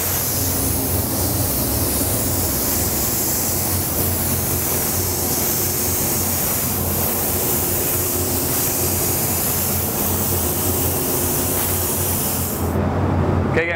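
A spray gun lays down a coat of candy paint mixed with pearl and flake, a steady continuous hiss held close for most of the run before cutting off near the end, with no talking.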